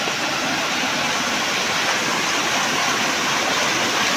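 A stream swollen after rain, once dry and now full of water, roars in a steady, loud, continuous rush close by, with no breaks or other sounds.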